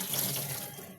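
Water pours steadily from a tap in a brief, continuous rushing splash, close and fairly soft, with no voices.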